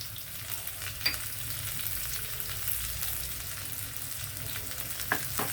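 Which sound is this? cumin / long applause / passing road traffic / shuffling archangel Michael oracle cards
cumin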